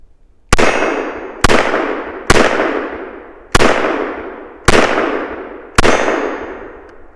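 Six sharp, loud gunshots from a Walther WMP pistol firing .22 Win Mag rounds, spaced roughly a second apart with a brief ringing decay after each, and no talking.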